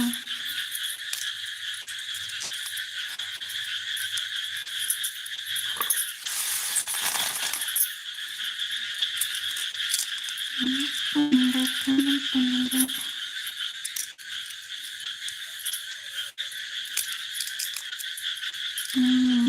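Frogs croak in short low bursts, clustered near the middle and again at the end, beneath a steady high chorus of insects that runs throughout.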